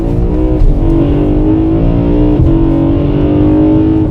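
A BMW E92 M3 V8 fitted with an Eventuri carbon fiber intake plenum drones loud and close, a steady deep engine note with slight rev changes throughout.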